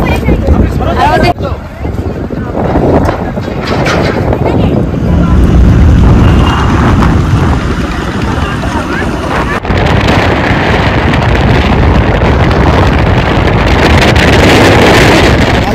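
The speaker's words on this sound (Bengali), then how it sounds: "যে হাওয়াটা ছাড়ছে না, একদম ফ্রেশ হাওয়াটা" Fresh outdoor wind gusting steadily across the microphone on a cool, lightly sunny day in Birbhum, a loud continuous rumble throughout with people talking over it.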